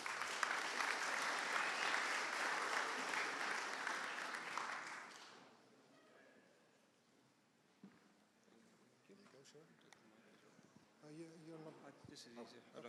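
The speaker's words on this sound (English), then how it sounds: "Please give him a warm round of applause." A conference audience at a security talk gives a loud, dense burst of clapping for about five seconds. The applause then stops abruptly, and someone speaks quietly near a microphone.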